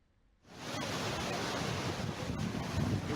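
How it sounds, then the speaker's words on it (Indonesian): High-tide ocean waves surge into houses in Bagan Kuala village: a dense, loud roar of rushing water starts abruptly after a brief quiet and keeps churning steadily, with no voices. "Pasang air laut disertai gelombang ombak yang tinggi ini menerjang ratusan rumah di Desa Bagan Kuala"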